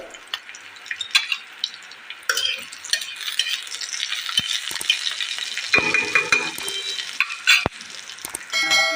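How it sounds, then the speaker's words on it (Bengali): Chopped garlic and green chillies with black cumin seeds fry in hot oil in a pan. The sizzle is close and steady, with bursts of stirring and scraping, and no one talks. "রসুনটা ভাজা ভাজা হয়ে গেছে"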